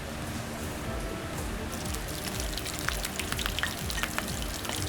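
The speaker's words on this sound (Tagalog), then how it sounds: "Sizzle is real." Shrimp lumpia fry in a shallow layer of oil, giving a steady close crackling sizzle with scattered sharper pops throughout.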